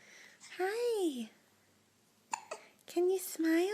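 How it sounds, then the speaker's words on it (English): A baby's hiccups, several short voiced hiccup sounds in bursts separated by pauses, close and clear, with an adult talking softly nearby. "Even though you got hiccups?"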